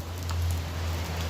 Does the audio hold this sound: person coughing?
no